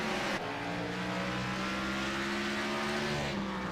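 Race car engines roar steadily at Martinsville during the Martin Sports 150, a loud continuous drone of several cars running together with no break for nearly four seconds.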